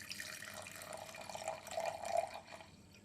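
Water poured into a graduated measuring vessel makes a soft, close trickle that builds slightly toward the end of the short pour before fading.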